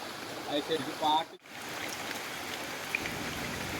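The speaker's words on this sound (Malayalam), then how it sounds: "നമ്മുടെ തൊടിയിലൊക്കെ നല്ല വെള്ളം കയറിയിട്ടുണ്ട് കേട്ടോ." Floodwater flows across a flooded Kerala garden after days of heavy rain. It makes a steady broad rushing wash, and a voice talks briefly near the start before the water carries on alone.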